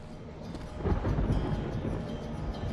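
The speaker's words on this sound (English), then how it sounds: "Was that just the roar of the thunder, or was there something else?" A low, rolling thunder rumble in the horror game Amnesia: Rebirth swells after a moment and lingers as a deep, steady roar over faint ambient noise.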